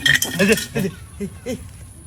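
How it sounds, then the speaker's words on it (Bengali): Several short metallic clinks and chinks, like gold coins knocking together in a pot, spaced irregularly and close by. "এই স্বর্ণের শব্দ"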